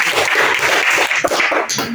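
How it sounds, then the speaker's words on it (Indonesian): Classroom pupils clap for a classmate named Rani after her answer in a lesson on electric circuits, a short, busy patter of many small hands close by. "Tepuk tangan untuk Rani."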